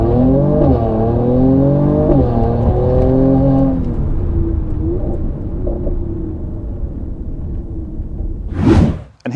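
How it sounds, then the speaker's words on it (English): A 2019 Mercedes C43 AMG with its exhaust valves open, floored from 0 to 60: a loud, close engine roar climbing through rising revs and a gear change, then settling into a steady drone before a sharp whoosh at the end. "here's what flooring it from 0 to 60 sounds like with the exhaust turned on."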